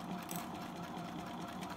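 A sewing machine stitches a seam on a toile for a hat brim, running as a steady, fast mechanical whir without pause for the whole short stretch, moderately close.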